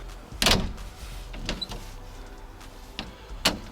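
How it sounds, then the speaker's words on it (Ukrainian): An IZh car door closes with a solid thud, followed by softer clicks and a couple more latch or handle sounds at intervals, close by. "Тільки подивіться, як закривається дверка."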